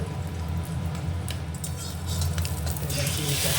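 Taro pieces fry in a pan until reddish for a taro and egg curry, giving a soft, continuous sizzle over a low background hum.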